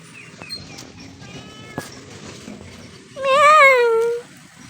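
A pet cat being fed liver gives one clear, drawn-out meow near the end, close and loud, after quieter moments of small eating and handling noises.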